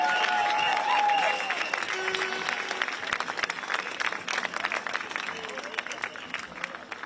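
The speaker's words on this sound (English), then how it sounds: "give yourselves a big round of applause for turning up and showing solidarity this evening" Crowd at an evening street protest applauding and cheering for themselves, a dense sustained roar of clapping that thins into scattered claps, with whistles and voices in the mix.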